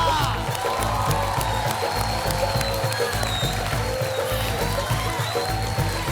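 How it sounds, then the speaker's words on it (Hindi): Studio audience applause on a Hindi TV quiz show stage, dense steady clapping and crowd noise over loud show music, continuous throughout. "तालियां!"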